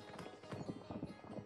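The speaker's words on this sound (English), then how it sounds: "That's a horse." A horse gallops fast, its hooves drumming in a quick, steady clip-clop rhythm, close and moderately loud with no talk over it.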